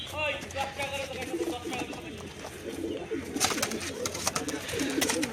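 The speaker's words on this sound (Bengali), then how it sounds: "আজকে বাড়িতে হিউজ কালেকশানে পায়রা আছে। এই হচ্ছে পায়রার জোড়া।" A pair of pigeons from a large home pigeon collection coos amid dense, noisy surroundings. Voices carry on throughout, and sharp clatter comes in now and then.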